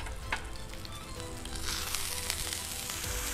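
A wagyu steak sizzles steadily in a hot pan just after being flipped, a close, continuous frying hiss with small crackles throughout and no talk.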